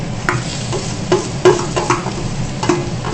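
Pieces of swamp eel (kuchia) go into hot oil in a pan, giving a steady sizzling fry with a few louder clattering stirs and splashes near the microphone, and no talking.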